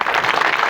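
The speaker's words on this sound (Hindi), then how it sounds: "जोरदार ताली बजाओ।" A large crowd at a public gathering clapping loudly, a brief dense wash of many hands applauding at once.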